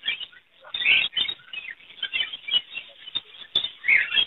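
Small parrots, lovebirds and budgerigars, chirp and chatter in quick overlapping bursts at an outdoor bird market, a dense, busy flock calling close by with no talk over it.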